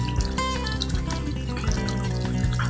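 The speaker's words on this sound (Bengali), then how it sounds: "আমি একটু জল দিয়ে তারপর চাপা দিচ্ছি।" Water is poured into a cooking pot of coriander chicken, a short, close splashing flow with dripping, heard over a steady hum.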